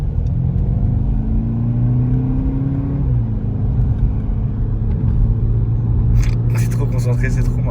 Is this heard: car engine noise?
yes